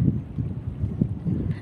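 A motorboat engine runs steadily on the water during a day-and-night fishing trip, a low continuous rumble with wind buffeting the microphone.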